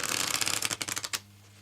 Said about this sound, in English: we'll give this back maybe one more shuffle